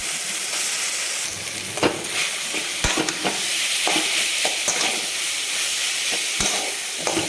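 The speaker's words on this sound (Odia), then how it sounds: "ଟିକେ ପଚେଇ ପଚେଇ ଭାଜିବା ତାପରେ ଆମର ରେଡ଼ି ହେଇଯିବ ଆଳୁ ଭର୍ତ୍ତା" Potatoes for aloo bharta sizzle and fry in a pan while being stirred, with a constant hissing fry broken by sharp spatula scrapes and knocks against the pan.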